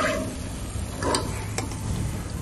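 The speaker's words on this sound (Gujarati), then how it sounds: "આપણો નાસ્તો ફ્રાય થઈ રહ્યો છે" A rice and rava snack fries in hot oil with a soft, steady sizzle and a few faint bubbling pops, quiet and close, with no talking.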